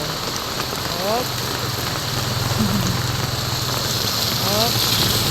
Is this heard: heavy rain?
yes